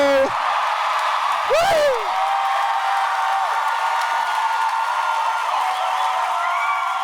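Live theater audience in Oslo, Norway, at a comedy show, cheering and applauding steadily throughout, with a brief whoop near the start over a dense, even bed of clapping.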